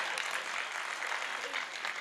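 An audience at a Hindi poetry recital (kavi sammelan) gives a short burst of scattered clapping, soft and a little distant, with faint voices mixed in.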